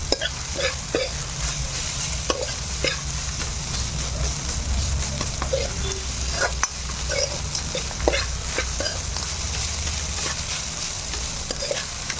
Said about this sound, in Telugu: ఇప్పుడు ఇందులో నేను రైస్ వేసేస్తాను ఇలా పొడి పొడిగా చేసుకొని